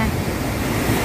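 Ocean surf washing onto a beach at sunrise in Phu Yen, a steady broadband roar with wind noise and no distinct wave breaks in a short stretch.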